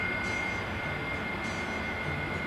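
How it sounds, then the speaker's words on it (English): Steady airplane engine drone inside the cabin on a flight to Alaska, a continuous broadband roar with no speech. "Just the plane ride is awesome."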